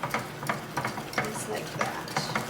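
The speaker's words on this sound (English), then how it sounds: "And whisk this all together" A whisk beats dry dirt pie ingredients into four egg yolks, giving a rhythmic scraping tap about three or four strokes per second, up close and steady.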